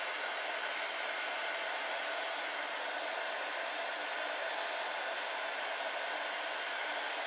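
A heat tool drying ink on a crafting card, a steady, loud, close whooshing hiss of blown hot air that holds constant throughout without breaks or talk.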